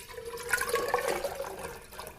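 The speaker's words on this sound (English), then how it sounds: "Fill it with water." Tap water pours and splashes into a vase for a hand-tied autumn bouquet of weeds, a soft, close, continuous gurgle lasting a couple of seconds with no talking.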